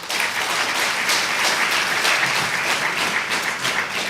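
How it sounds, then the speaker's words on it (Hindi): A crowd at a religious gathering applauds in a dense, steady wash of clapping that stays loud and even for several seconds. "एक बार ताली जरूर बजाओ"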